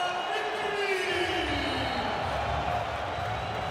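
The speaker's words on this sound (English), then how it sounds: "Huge cheer from the crowd." Arena crowd at a European Championship handball match between Serbia and Germany roars with a sustained cheer, a broad steady swell of voices, mid-level and continuous.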